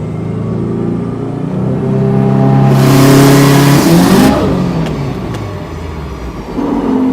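A car with a 2.34-litre G30-770 turbo setup, flex fuel and a Link G4x ECU revs up hard, its engine roar rising into a loud, close peak with a whooshing rush before dropping back, and no voices.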